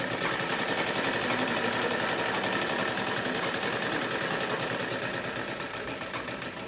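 A sewing machine stitching a student blouse runs steadily at a fast, even rhythm of needle strokes, close and fairly loud, with no talk.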